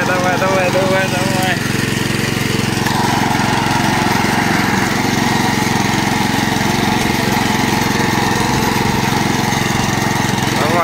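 A walk-behind motoblock tractor engine runs loud and steady close by, straining continuously while dragging wooden poles, branches still attached, toward a shed; the droning, rattling note holds throughout without pause.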